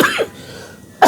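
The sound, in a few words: cough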